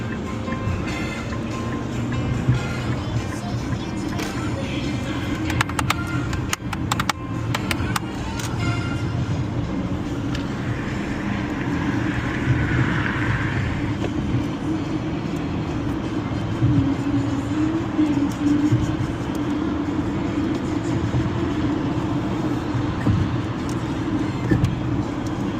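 Nissan Kicks 2025 cruising in moderate traffic, a steady low road and engine rumble with tire noise running continuously throughout, fairly close and even in level.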